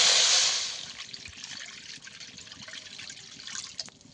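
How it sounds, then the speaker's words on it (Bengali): Water poured into a wok on a stove for sugar syrup, a loud splashing rush at first that quickly fades into faint trickles and drips, close by with no talking. "মানে জল দিয়ে দেব কড়ার মধ্যে।"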